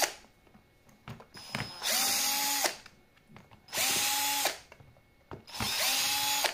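An 18 V cordless screwdriver backs out screws in three separate bursts of close, whining motor noise. Each burst rises quickly to a steady pitch and is separated from the next by quiet pauses, with no talking.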